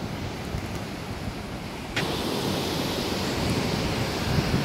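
Ocean waves break and roll in at New Brighton pier. A continuous roar of surf is mixed with wind noise, and the sound swells noticeably louder about halfway through as a wave crashes.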